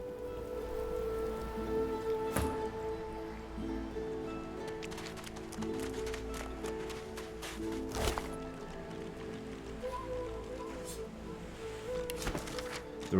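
Rain spell in the video game Divinity Original Sin 2: a steady wash of pattering rainfall on surfaces throughout, with a few sharper taps and thumps standing out.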